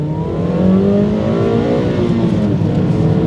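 A 2007 Suzuki Swift Sport's 1.6-litre naturally aspirated four-cylinder engine revs hard toward 7,000 rpm, climbing steadily in pitch, loud and close, with a strained high-rpm whine.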